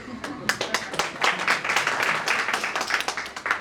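Dense, continuous clapping from a crowd at a public speech, many hands overlapping in an irregular patter that holds steady throughout with no talk on top.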